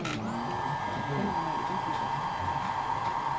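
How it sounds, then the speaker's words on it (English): A hair dryer blows steadily at close range to dry paint on a scale model, a constant loud whooshing hum that starts abruptly and runs without a break. "The high dryer."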